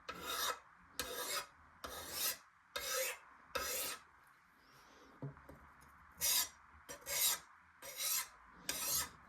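A file rasps against a paper cutter blade in repeated strokes, each a harsh scraping burst of about half a second, with brief pauses between them and soft handling noise in the gaps.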